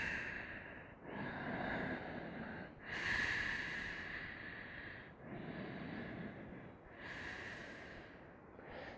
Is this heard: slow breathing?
yes